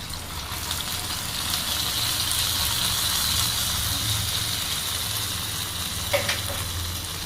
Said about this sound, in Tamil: நல்லா எல்லாம் வறுந்து வந்துடுச்சு.